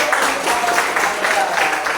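Students in a classroom give a short round of applause, a dense patter of hands clapping at moderate loudness with a voice faintly underneath.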